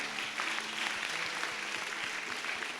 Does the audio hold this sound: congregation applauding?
yes